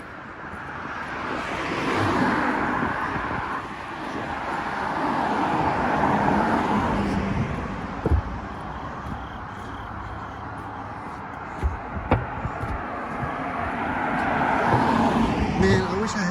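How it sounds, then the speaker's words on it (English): A car approaches from behind along a road at night, its broad engine and tyre rumble swelling and fading over several seconds beneath a person talking nearby. "Look, another car coming from behind."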